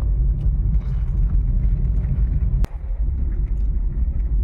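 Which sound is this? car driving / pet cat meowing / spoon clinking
car driving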